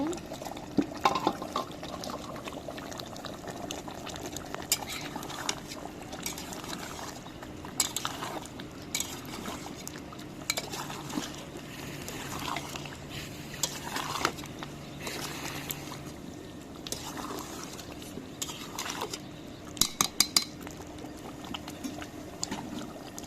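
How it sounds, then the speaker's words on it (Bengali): Beef rezala being stirred in a pot, with soft scraping and clinks of a utensil against metal and a bubbling liquid underneath, steady and close, while a voice talks at intervals. "নাড়া দিয়ে দিব"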